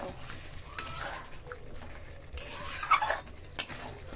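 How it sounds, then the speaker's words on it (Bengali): Goat meat being stirred and sautéed in a pan, quiet scraping and stirring strokes with a few sharp clinks of a utensil against the pan over a faint low sizzle. "মা কষিয়ে নিচ্ছে"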